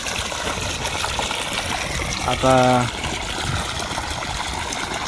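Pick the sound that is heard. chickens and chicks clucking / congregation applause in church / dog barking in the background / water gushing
water gushing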